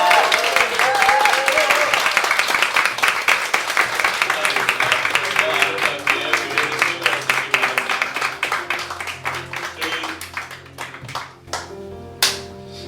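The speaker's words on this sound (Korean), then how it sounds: "동의하시는 분들은 힘찬 박수로 이 가정을" A church congregation breaks into applause to welcome new families, with dense, enthusiastic clapping that gradually thins out into a few scattered last claps.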